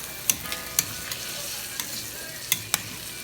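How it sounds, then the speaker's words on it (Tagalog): Mixed vegetables being stir-fried in a pan, with a steady faint sizzle broken by a handful of sharp scrapes and clinks as the spatula stirs the food, with no talking. "konting halo na lang, tas okay na yan"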